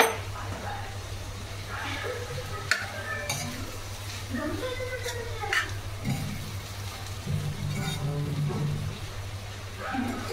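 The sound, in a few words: stirring soaked poha (flattened rice) in a pan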